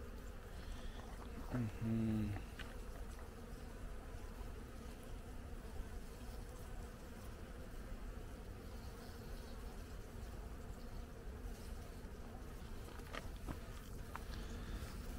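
Honeybees hum steadily around hives at an apiary in Artvin during spring hive care, a faint, continuous drone with occasional closer passes, and a man murmurs briefly early on.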